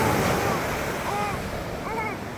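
Sea waves washing onto the shore, a broad, steady rushing wash mixed with wind noise on the microphone, with faint voices and a brief high-pitched call partly heard in the background.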